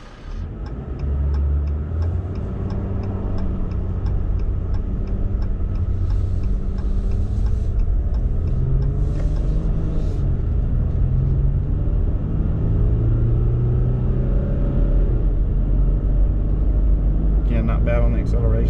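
A 2020 Ram 1500 EcoDiesel truck accelerates while towing a Kubota M4-071 tractor, a deep, steady engine rumble rising and shifting in pitch from inside the cab, with a faint ticking and someone talking over it.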